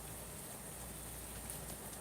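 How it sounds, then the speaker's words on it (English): Steady rain falls during a thunderstorm, an even broadband hiss held at a quiet, constant level throughout with no voices. "The rain is slowing down."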